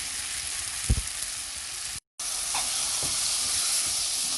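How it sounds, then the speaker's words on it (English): Saltfish sizzles and fries in a hot pan, a steady close hiss of spitting oil with a couple of brief clinks from stirring and a momentary dropout midway. "I'm gonna let the saltfish fry up for like maybe 5 minutes"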